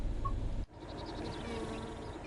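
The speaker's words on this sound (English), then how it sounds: "Buzzy bee and a gull I can hear." A bee buzzes in a garden in the train simulation game Train Sim World 5. A faint, wavering buzz drifts in and out over a steady ambient hum, with a brief dropout near the start.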